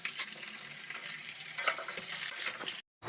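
Shukto, a mixed vegetable dish, cooks in a pan with a quiet, continuous frying sizzle and a cluster of stirring clatters midway, ending in a sudden brief silence.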